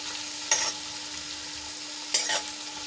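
Tomatoes sauté in a pan for moulded lentil pulao with a steady low sizzle, and two short bursts of spatula stirring stand out over the frying hiss.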